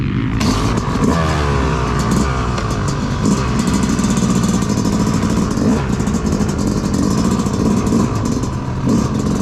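A 2022 Yamaha YZ250 two-stroke dirt bike being ridden on laps during break-in, its engine buzzing and revving continuously at mid distance with rising and falling pitch and some clattering.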